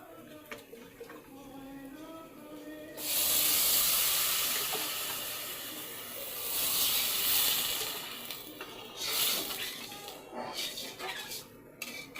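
Water poured into a pan of fried rice while cooking pulao sets off a sudden loud, hissing sizzle that swells and fades in waves, with steam hissing steadily and a few clinks between bursts.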